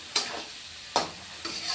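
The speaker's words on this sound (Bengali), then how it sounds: "আমার মশলা কষানো হয়ে গেছে, দেখো আমার তেল ছেড়ে আসছে।" Spice paste for a thin koi fish curry with potato and bori frying in oil, with three short scraping stirs in the pan, each giving a brief sizzling burst over a quiet background.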